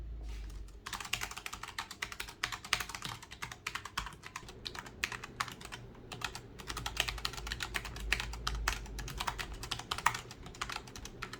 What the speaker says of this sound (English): I will show a quick audio clip and visual of me typing with this keyboard.